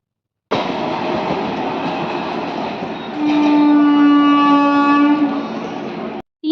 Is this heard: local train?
yes